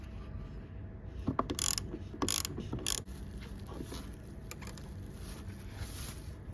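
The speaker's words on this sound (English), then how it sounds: "Let's start by disconnecting the battery negative terminal." A ratchet wrench clicks in a few short bursts while loosening the 10mm negative battery terminal nut on a 1FZ-FE 100 Series Land Cruiser, close and fairly faint against steady background noise.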